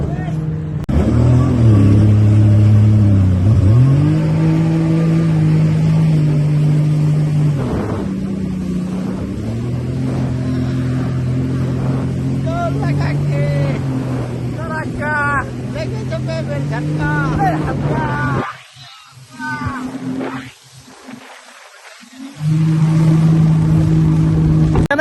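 A motor boat engine drones loudly and steadily while the boat is driven, its pitch rising and falling with the throttle. Voices talk over it, and the engine briefly drops away near the end before returning.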